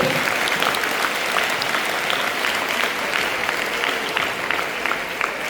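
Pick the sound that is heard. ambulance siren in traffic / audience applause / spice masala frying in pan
audience applause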